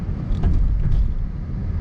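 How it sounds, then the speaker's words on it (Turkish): A 2021 Honda Civic 1.6i-VTEC CVT running on LPG rolls over a speed bump at low speed, a dull low rumble with a couple of soft thumps from the suspension as the wheels cross, steady road noise underneath. "Şurada bir setten geçeceğim."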